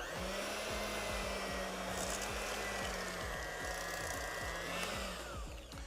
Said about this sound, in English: We're gonna beat that up too with the mixer until it's evenly distributed and creamy.